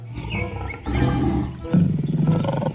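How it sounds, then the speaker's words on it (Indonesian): A toy lion roars loudly and close in two or three long, rumbling bursts, with no talk. "muncullah seekor singa"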